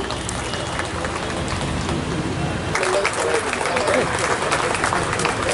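Audience at a government road safety event in Agartala, Tripura, clapping steadily throughout, a dense patter of many hands that swells louder midway, with a voice speaking faintly underneath.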